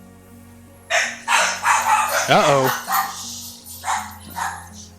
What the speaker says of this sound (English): My dogs are awake.